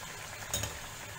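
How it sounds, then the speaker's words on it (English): Battered potato slices fry on high heat in hot oil, giving a faint, steady sizzle with a short louder burst of bubbling partway through. "Let's fry the pakoras on high heat till they are golden brown on one side"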